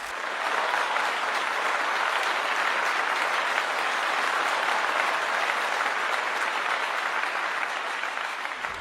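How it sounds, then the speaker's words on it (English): An audience at a Hall of Fame awards event applauds for the inductees, a steady, dense clapping that holds evenly throughout without a break. "Another round of applause for our two newest inductees into the Hall of Fame"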